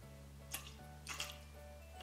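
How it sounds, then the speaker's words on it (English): About two tablespoons of marsala are poured into a water mixture for individual tiramisu cups, making a couple of brief, soft splashes and drips against a quiet kitchen background. "And I'm going to add about 2 tablespoons worth of marsala."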